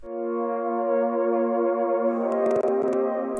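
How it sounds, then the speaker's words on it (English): Sustained epic synth pads from the Spire synthesizer in a hip-hop production, a rich harmonic chord held steadily and loudly, with brief glitchy clicks and percussive ticks near the end. "Next to that, we have these epic pads,"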